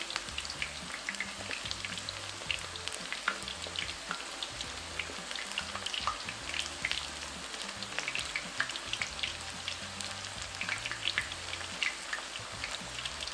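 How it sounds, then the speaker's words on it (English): Ground beef taquitos frying in hot oil, giving a steady, dense crackling sizzle with scattered pops, close and continuous throughout with no talk. "We're gonna continue to cook our taquitos until they're nice and crispy."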